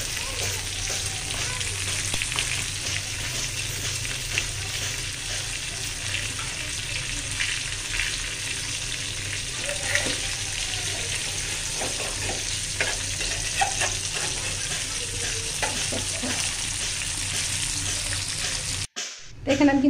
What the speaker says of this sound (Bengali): আবার মাছটা কিন্তু ভাজি হয়ে গেছে, আমি সাথে 3-4টা শুকনো মরিচ দিয়ে দিলাম।